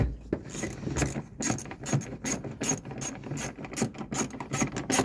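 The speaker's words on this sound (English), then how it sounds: "And now, got my little wrench." A small ratchet wrench clicks in quick repeated bursts while installing wheel well liners on a 2021-2024 Ford F-150 truck, close and fairly loud, with no talking.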